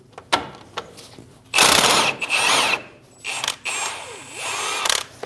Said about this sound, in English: Using a 21mm socket, remove the nut for the tie rod end.